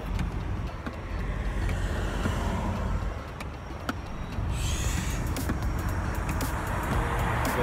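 Steady roar of heavy road traffic, with cars and trucks passing in a continuous wash of engine and tyre noise and occasional sharper clicks and swells.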